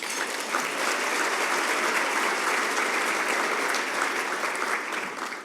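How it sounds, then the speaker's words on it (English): A luncheon audience at the Foundation for the Future event delivers a full, continuous round of applause, dense and even throughout, tapering slightly toward the close. "Please give a nice round of applause."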